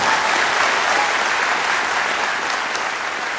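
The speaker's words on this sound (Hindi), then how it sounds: "तालियां होनी चाहिए" A training seminar audience breaks into loud, sustained clapping, a dense, even wash of many hands that fades only slightly toward the end, with no voices over it.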